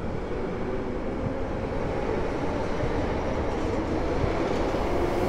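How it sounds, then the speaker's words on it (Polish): Two coupled ER75 Flirt electric units from Siedlce pull away from Warszawa Powiśle station, a broad steady rumble of motors and rolling wheels, moderately loud and continuous throughout with no voices. "Rusza pociąg z Siedlec. Dwie jednostki ER75 Flirt."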